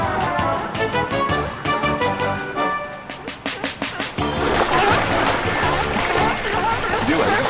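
Seals plunging into the sea off the California coast, splashes and churning water mixed with surf noise, loud and close, with a voice talking over part of it.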